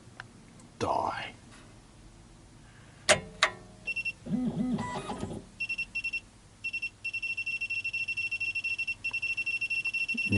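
An SEC E9 key cutting machine beeps while cutting an LF31R key blank. Clicks and short noises come first, then a steady, insistent run of rapid electronic beeps fills the second half, with faint talk earlier on.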